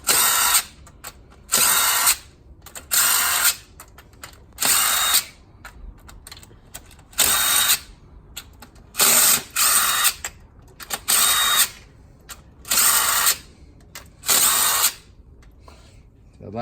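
An impact gun with a 14 mm socket loosens cylinder head bolts on a 1995–2000 Honda Civic, firing in a dozen short, loud whirring bursts separated by brief pauses, close to the listener.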